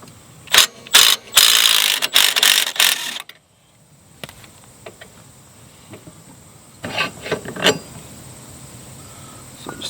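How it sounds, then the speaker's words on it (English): A Milwaukee M12 right angle impact wrench removes a Cub Cadet ZT1 mower caster wheel, giving several loud, close bursts of rapid ratcheting clatter, then a quiet pause and a few more short mechanical clicks and rattles. "So I'm going to use this Milwaukee M12 right angle impact wrench."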